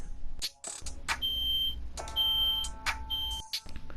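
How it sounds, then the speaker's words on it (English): A smoke alarm gives sharp high-pitched beeps, several in an irregular series, with faint clatter and rustling between them, set off in a house. "the fire alarm start beeping"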